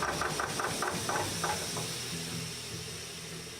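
An engine starting during a restoration test with the air valve opened, running with a steady mid-low drone, a rapid knocking cadence at first, then settling into an even hum.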